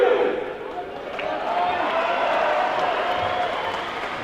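Crowd applause and murmur at an indoor futsal international in Wellington, a steady, moderately loud wash of clapping and chatter under a commentator's voice.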